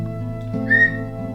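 A short, clear whistle tone rings out in the video game Knight Online, a single brief high note over steady game background music.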